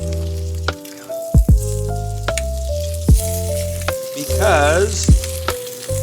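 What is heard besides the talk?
eggs frying over easy on a grill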